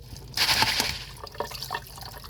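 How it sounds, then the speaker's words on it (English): Water in a bowl used for soaking orchid moss, heard close up as a brief splash and pour followed by a few soft drips and small sloshes, quiet and alone. "We just let it sit in a bowl of water."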